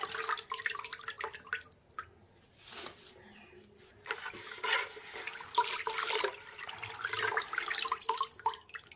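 Water runs and splashes while something is washed clean, giving uneven, dripping and sloshing bursts with a short quieter gap partway through.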